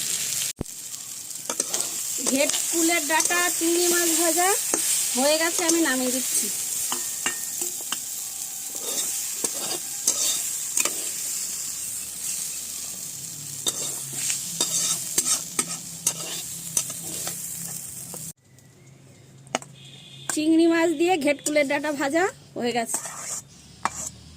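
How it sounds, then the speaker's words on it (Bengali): Shrimp and ghatkol leaves are stirred and fried together in a pan, with continuous sizzling and frequent close scraping and clatter of the utensil. A voice speaks briefly near the start and again near the end. "এবার সব একসাথে ভালো করে ভাজা ভাজা করে নেব"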